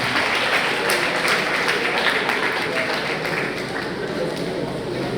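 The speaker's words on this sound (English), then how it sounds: "A round of applause for him." Sustained audience applause at a closing ceremony, a dense, steady wash of many hands clapping at fairly constant loudness throughout, with faint voices mixed underneath.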